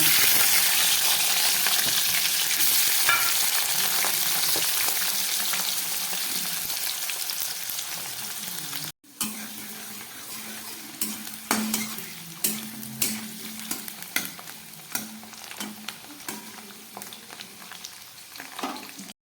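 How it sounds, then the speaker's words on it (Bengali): Potato pieces fry in hot oil in a wok, a loud continuous sizzle up close, followed by scattered metallic clinks and scrapes of stirring as the hiss settles. "এই তেলের মধ্যে আমি কয়েক টুকরো আলু ভেজে নেব"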